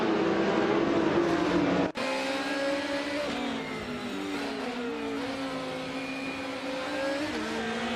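Race cars in a video game launch at the start of a race on the Grindelwald track, among them a 2008 Lamborghini Murcielago, with engines revving and rising in pitch after a brief cut, several overlapping drones held steady at close range.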